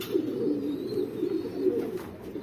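Pigeons in a cage coo in a low, continuous, throaty murmur, close and fairly loud, rolling on steadily with no voices.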